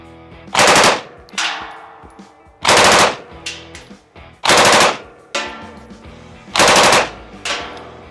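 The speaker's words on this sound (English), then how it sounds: "so when you pull that trigger, that bolt's gonna go forward, load the round, and bang." A machine gun fires in four sharp, loud bursts at an outdoor shooting range, each burst followed by ringing echoes and short gaps before the next.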